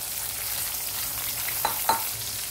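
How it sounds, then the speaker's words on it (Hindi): Potatoes and peas frying in a pan over high flame for a Sindhi gobhi aloo matar sabji, a steady close sizzle with a couple of brief stirring scrapes near the end. "आलू मटर दोनों को हम फ्राई कर लेते हैं।"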